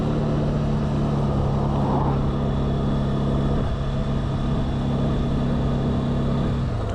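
A Honda CB300R motorcycle engine hums steadily at moderate revs as the rider drops a gear, with a low droning tone and wind rush that shifts slightly partway through.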